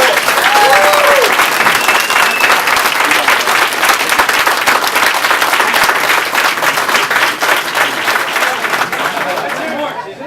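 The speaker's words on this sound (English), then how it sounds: "Let's give him a big round of applause." Loud, sustained applause from a Democratic club audience welcoming county executive candidate Tom Suozzi to speak, dense clapping throughout with a few voices and whistles mixed in, tapering slightly at the end.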